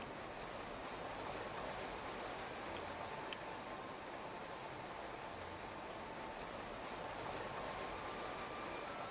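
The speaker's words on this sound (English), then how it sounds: "Sudden rain." Rain falling in the colony game Clanfolk, a soft, even, continuous hiss of steady rainfall with no pauses or voices.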